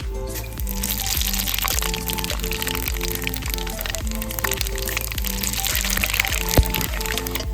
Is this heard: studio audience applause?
no